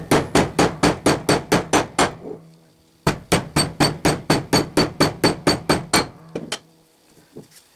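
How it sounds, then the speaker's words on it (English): Oiled pins are driven with a brass or copper hammer while fitting a lathe tool rest: two runs of rapid, evenly spaced metallic blows, loud and close, separated by a short pause, then a few lighter taps. "I like to oil them and drive them with a brass or copper hammer."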